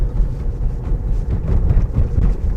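A Volvo car driving at around 30 on a badly surfaced road, heard from inside the cabin as a continuous, loud, low rumbling roar with uneven bumps and no speech.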